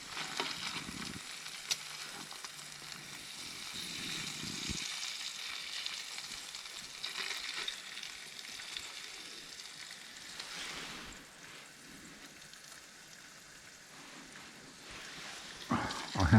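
Breakfast food sizzles quietly in a pan over a camp stove while wild camping in Thetford Forest. The soft, crackling hiss comes and goes, with a few stirring scrapes and a louder burst near the end.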